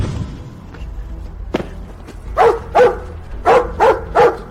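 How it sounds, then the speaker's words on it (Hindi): A dog barks loudly and close by, five sharp barks in quick pairs after a few soft thuds. "अच्छा लड़का, भौंकना बंद करो, भौंकना बंद करो।"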